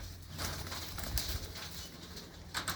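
Racing pigeons belonging to a pigeon-racing group, with soft coos and some wing flapping over a steady low background hum, fairly near and continuous.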